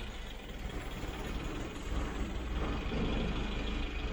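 A small Mitsubishi Jeep engine fitted with a Weber carburetor idles steadily in neutral with the choke off, a continuous low rumble that holds even and slightly rises toward the end.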